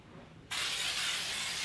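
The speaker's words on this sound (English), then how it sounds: "these atmosphere aerosol, like haze in a can basically" An Atmosphere aerosol haze can sprays in a sudden loud continuous hiss that starts abruptly after a quiet moment and holds steady to the end.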